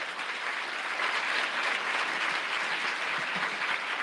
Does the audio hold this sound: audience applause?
yes